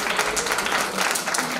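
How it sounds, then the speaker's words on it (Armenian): A burst of audience applause fills a kindergarten autumn celebration, many hands clapping at once in a dense, steady wash, close and fairly loud. "Եկեք ծափահարենք"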